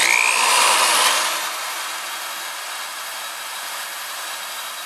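A power drill bores into a rusty metal fuel tank part, a loud bright whining grind for about a second and a half that then drops to a steady, quieter hiss.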